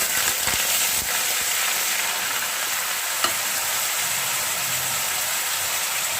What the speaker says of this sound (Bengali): এবার আমি দিয়ে দিচ্ছি পেঁয়াজটাকে ঘুটে রেখেছি